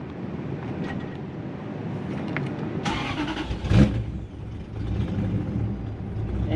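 A Toyota Hilux fitted with a 1UZ V8 engine runs steadily throughout, a continuous low engine rumble with a brief louder surge near the middle, no talk over it.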